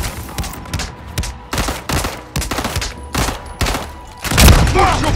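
Gunfire in the video game Call of Duty MW3 Zombies, rapid repeated bursts of automatic shots in close succession, loud and punchy with a heavier blast near the end and some voices underneath.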